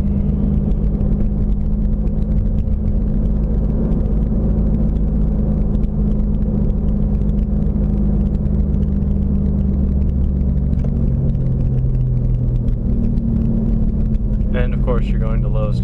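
Road rumble and engine drone fill a moving car's cabin, steady and loud from start to finish, with a voice briefly rising over it near the end.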